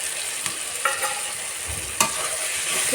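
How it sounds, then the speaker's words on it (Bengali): Prawns and ridge gourd fry steadily in a pan, a continuous close sizzle broken by a few sharp scraping clicks of a spatula stirring the mix. "চিংড়িটা দিয়ে ভালো করে আরেকটা সময় ভেজে নেবো"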